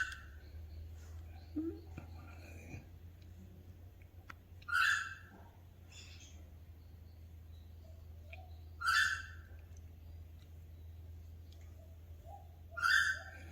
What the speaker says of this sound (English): Tell why it's called a noisy friarbird.